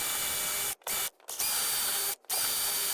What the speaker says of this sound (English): The other way you can do it is just get your drill and make 4 marks.